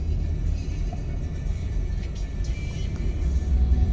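A Honda car engine idles steadily at about 800 RPM, a low, even rumble that stays fairly quiet and constant, with no other sounds over it.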